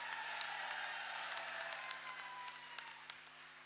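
An election rally crowd claps for independent candidate supporters and farmer leaders, a dense wash of applause with a few sharp individual claps standing out, easing slightly toward the end.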